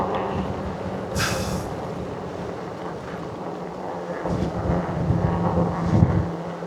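Gusty wind buffets the microphone in low rumbling surges, rising and easing over several seconds, with a brief whooshing burst early on.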